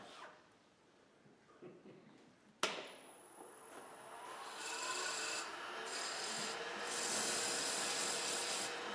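A wooden piece being sanded on a wood lathe: a steady rasping rub over the spinning workpiece that grows louder and denser midway, with a brief sharp knock first.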